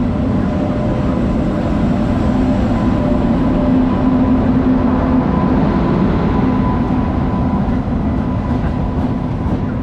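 A train rolls into a platform at an Indian railway station with a loud, steady rumble and faint clatter of the cars, continuous throughout and close by.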